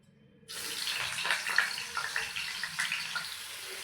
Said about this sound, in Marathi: कढईत तेल तापत ठेवलेलं आहे। यात सर्वप्रथम घेतलेले बटाटे तळून घेऊ।